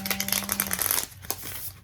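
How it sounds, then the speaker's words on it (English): Tarot cards being shuffled by hand, a quick papery riffle of crisp slaps and rustles for about a second, then quieter scattered card ticks, close and alone. "One more shuffle here."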